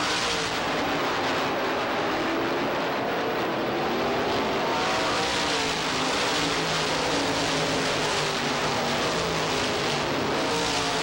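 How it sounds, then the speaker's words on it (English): Supermodified race cars roar around Lee USA Speedway in a steady, loud, dense engine drone, the pack blending into one continuous wall of sound without a break. "Leaders again string it out down the backstretch as Ordway's got himself about a 3 or 4 car l"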